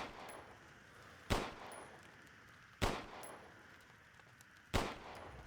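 Three sharp gunshots from Resident Evil Village ring out at spaced intervals, each a loud broadband crack with a short decaying tail over a quiet, faintly humming game backdrop.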